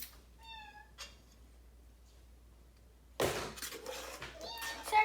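A kitten gives a short, high meow near the start, close and clear in a quiet kitchen. A louder burst of clattering and noise follows later.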